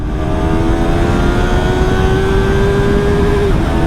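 A Yamaha R3 or Kawasaki Ninja 400 motorcycle engine held high near its 13,000 RPM rev limiter, a loud, close, sustained high-pitched whine that climbs slightly and then drops off at the end.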